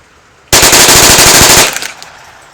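A Marlin Model 60 rifle fires a full tube of rounds in one very loud, rapid burst of closely spaced shots lasting about a second, then a short echoing tail.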